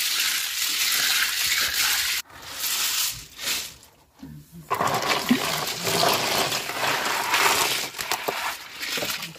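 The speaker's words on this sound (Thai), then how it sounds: "มันเป็นการล้างนะครับล้างดินออกพวกตะไคร้ให้มันเกาะตามเปลือก" Freshwater snails being washed in water to rinse off mud, giving steady splashing, sloshing and rattling of shells, with a short pause in the middle before the vigorous swishing resumes.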